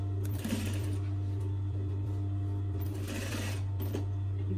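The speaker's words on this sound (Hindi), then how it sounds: "फिर सिलाई लगाओ थ्री थ्री दोनों साइड पे तीन तीन सिलाई" Sewing machine stitching a kandurah dress: a steady motor hum with two bursts of fast stitching, close by, and no voices.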